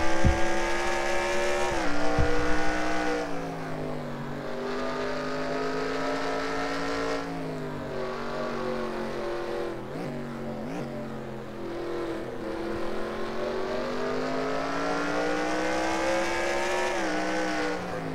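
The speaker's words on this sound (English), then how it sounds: "We're going to go on board the 14 car of Kyle Matthews as he takes us for a ride around the Infineon Raceway." The No. 14 NASCAR race car heard onboard while lapping Infineon Raceway in a racing game, with a loud, continuous engine roar that rises and falls through gear changes and braking around the circuit.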